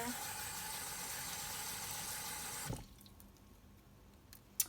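Water pours with a steady splashing hiss into the loose, fast-draining mix of a potted Haworthia plant, then stops abruptly, leaving quiet room tone and a faint click.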